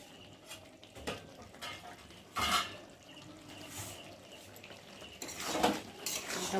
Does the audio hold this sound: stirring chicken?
yes